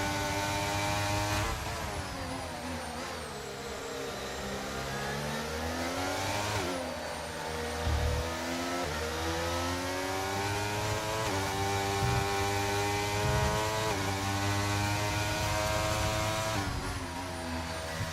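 Formula 1 car engine in a racing video game, a loud, sustained high-pitched whine rising and falling with repeated upshifts as the car accelerates down a straight in a slipstream at the Australian round, with no one speaking.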